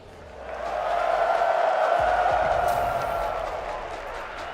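Esports arena crowd at a fighting-game final cheers and roars for player Ending Walker, a broad sustained swell of voices building, holding loud, then easing.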